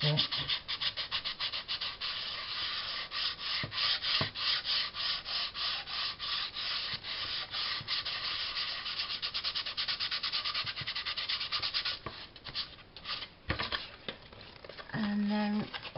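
Hand sanding of wood with sandpaper, a steady close-up rasping rub of back-and-forth strokes that runs nearly nonstop, with brief pauses and a few sharper scratches near the end.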